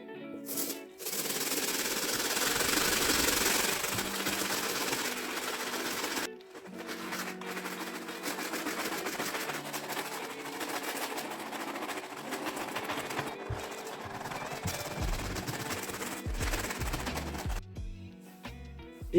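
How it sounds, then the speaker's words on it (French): A stiff brush scrubs the sole of a Jordan 1 Mid Obsidian sneaker with cleaning solution: close, busy rasping strokes, rough and steady, with a few short pauses and a brief stop near the end. "je vais venir avec la brosse solide et la solution et je vais passer un coup donc partout pour la nettoyer"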